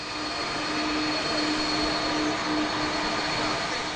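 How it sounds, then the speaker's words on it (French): Airliner of SN Brussels Airlines landing on a new runway at a modular airport terminal, a loud steady jet engine roar with a constant hum, heard alone for the whole stretch. "le vol SN Bruxelles Airlines, qui atterrit pour la première fois sur cette piste"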